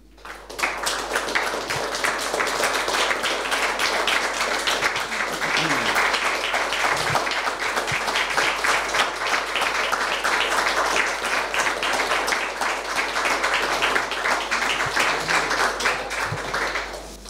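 An audience at an award ceremony breaks into loud, sustained applause, dense clapping filling the room steadily for about seventeen seconds.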